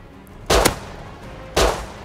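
Two sharp, loud gunshots crack about a second apart in the survival video game Rust, each a brief burst with a quick double report, over a quiet background hum.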